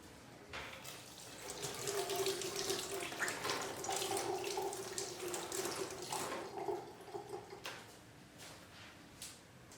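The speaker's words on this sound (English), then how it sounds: "So I need to do one more batch. Wash my hands." Tap water runs steadily into a sink in a home kitchen while hands are washed under it, splashing and gurgling close by, with a few small knocks and drips near the end.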